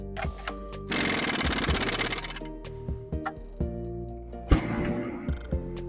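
Someone tightens the cover plate nut on a small Kingda 3/2 KSH slurry pump with a tool, giving a rapid buzzing rattle for about a second, then scattered sharp metallic clicks and taps close by.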